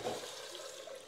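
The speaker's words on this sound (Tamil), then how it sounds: "இப்போ வந்து பார்த்தீங்கன்னா நம்ம தண்ணி சேர்த்துக்கலாம்" Water is poured into a pot of cooked mutton biryani masala, heard as a brief, faint, steady splashing rush up close, with no talking.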